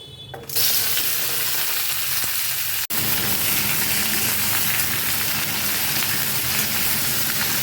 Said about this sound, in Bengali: প্রথমে এই সবজিগুলো একটু ভেজে নেব।